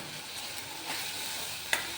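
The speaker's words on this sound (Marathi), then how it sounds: "तर ही आपण परतून घ्यायची." Masala paste for chole sautéing in hot oil in a pan, a steady soft sizzle with light stirring scrapes and a brief sharper clink near the end, no voices.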